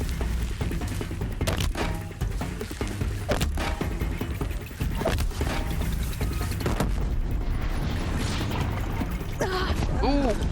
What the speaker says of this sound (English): 3 sticky bombs blew up on him